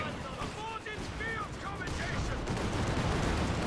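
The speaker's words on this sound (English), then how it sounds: "Another artillery call in." An artillery barrage in Company of Heroes 2 rumbles as a dense, continuous roll of distant booms and blasts that grows slightly heavier toward the end, with brief whistling tones early on and a voice talking over it.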